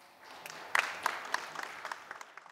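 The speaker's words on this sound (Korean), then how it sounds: "박수 보내주십시오." Audience applause at a policy forum, scattered claps that start sparse and quiet, then continue in a light uneven patter from a modest crowd.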